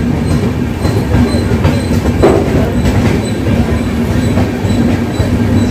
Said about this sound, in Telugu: Bengaluru cantonment railway station departure చూడండి